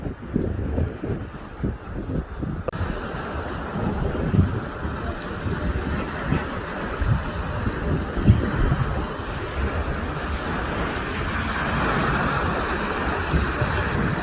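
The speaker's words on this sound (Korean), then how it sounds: "파도가 밑에 치고 있습니다." Sea waves wash and churn steadily against the rocky Jeju coastal shore below, with strong wind rumbling across the microphone, a loud continuous roar with no voices.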